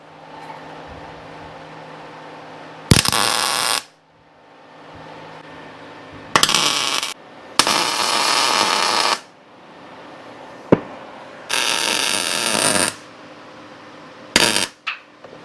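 Steel corner caps being welded onto a Chevy S10 crew cab chassis: several loud bursts of welding crackle, each lasting about a second, separated by quieter gaps with no talk.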